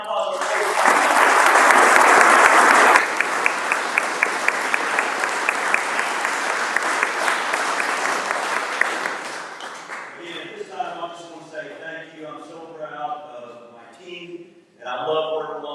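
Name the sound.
crowd applause at a ribbon cutting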